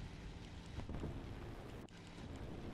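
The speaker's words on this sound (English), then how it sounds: "Just ripping through the waves" Boat cutting through ocean waves in a video game, a faint rushing whoosh of water and wind, continuous with a brief dropout near the end.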